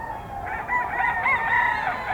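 A Boston Roundhead gamefowl rooster crows once, a single drawn-out cock-a-doodle-doo rising and wavering over about two seconds, fairly close and fairly quiet, with no talk over it.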